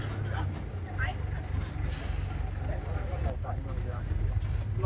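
A bus idling in a traffic jam at Kurseong on the road to Darjeeling, a low rumbling engine drone with occasional air-brake hisses and clanks, with people talking nearby.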